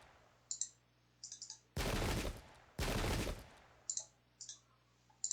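Two loud, roaring musket volleys in the historical strategy game Pike and Shot each last about a second, separated by a short pause and surrounded by soft interface clicks.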